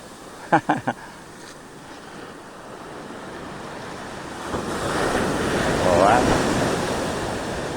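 Ocean waves washing onto a beach at Legon Pari, a steady broadband rush swelling louder in the second half, with wind noise on the microphone and a few brief knocks near the start.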